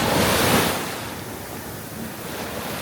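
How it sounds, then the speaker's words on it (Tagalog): Strong ocean waves crash and wash onto a beach at Sariaya, Quezon, a loud surge at the start easing into a steady churning roar, with wind buffeting the microphone. "Ang lakas ang alon."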